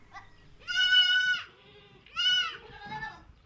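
A goat bleats twice, loud and close, each cry a wavering, nasal call of about a second, with a short pause between.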